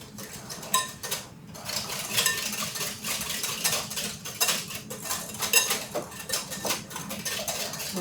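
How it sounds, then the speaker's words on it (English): A metal whisk beats pumpkin puree batter for healthy bran muffins in a bowl, a rapid, irregular clatter of wires against the sides, close and moderately loud, continuing steadily with no voices. "A whisk."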